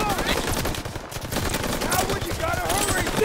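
Dense, loud gunfire in the WW2 shooter Call of Duty: WW2, with chaotic overlapping shots and battlefield noise running continuously, and voices shouting in the mix.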